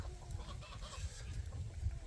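Chickens cluck and murmur steadily over a noisy outdoor farm background, with no voices present.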